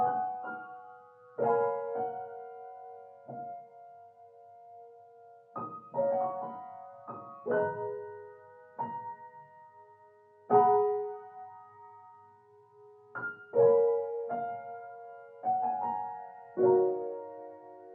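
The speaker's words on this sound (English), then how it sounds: "which is the original piano but pitched up with an octave" A piano sample pitched up an octave, used as a dreamy R&B texture, plays bright sparse chords and single notes that ring and decay, about a dozen attacks across the passage, clean and alone with no voices.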